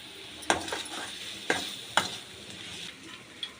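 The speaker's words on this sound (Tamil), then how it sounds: "அதையும் இதோட போட்டு நல்லா ஃப்ரை பண்ணிக்கோங்க" Dried turkey berries (sundakkai vathal) frying in a pan with a steady hiss, broken by a few sharp scrapes and clinks of a spoon stirring at irregular moments.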